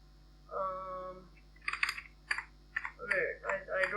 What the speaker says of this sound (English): To do that, you can just type.